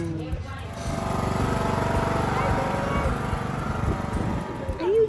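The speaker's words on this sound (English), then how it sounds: "We're gonna watch Bubba go on the tractor ride." A tractor engine chugs steadily nearby with a low rumbling drone, with people talking over it.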